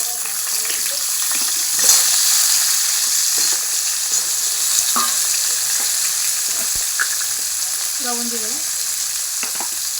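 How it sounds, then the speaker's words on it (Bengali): Pointed gourd (potol) pieces frying in hot oil, a steady close sizzle running the whole way with occasional stirring clinks, while someone talks briefly over it. "পটলগুলো ভেজে নেবো"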